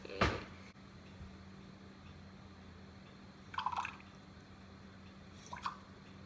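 Water goes into a kitchen measuring cup in three short, faint bursts of splashing and dripping, spread apart with quiet in between.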